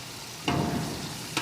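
Bay leaf, cardamom and cinnamon hit hot oil for biryani with a sudden sizzle that swells and then holds as a steady crackle, with a brief sharp burst near the end; no one speaks.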